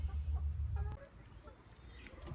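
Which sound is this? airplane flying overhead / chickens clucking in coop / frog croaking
chickens clucking in coop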